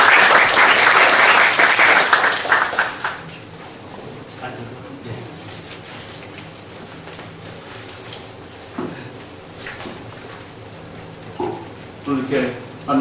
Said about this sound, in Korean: 우리 오늘 발표를 맡아주신 우리 신정선 대사님을 환영의 박수로